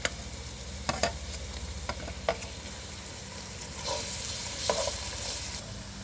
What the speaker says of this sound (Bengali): পেঁয়াজ ভাজা হয়ে গেলে রসুন বাটা, আদা বাটা, কাঁচামরিচ ফালি,